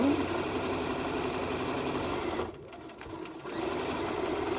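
A domestic sewing machine runs steadily while stitching a cloth face mask, with a continuous close, loud motor whir and needle rattle that briefly slows and dips in the middle before resuming at full speed.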